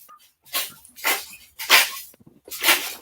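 A ten-year-old dog lets out four loud, close barks spaced about half a second apart, each sharp and separate, with quiet gaps between.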